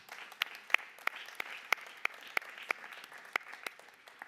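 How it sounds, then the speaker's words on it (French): Audience applause at a European awards ceremony: a thin, moderate patter of clapping continues throughout, with a few sharper individual claps standing out regularly, fairly distant and without talk. "Bravo, on peut les applaudir à nouveau."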